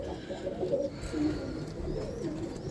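Roller pigeons cooing softly and continuously in a loft, low murmuring calls overlapping at a steady moderate level with no voices.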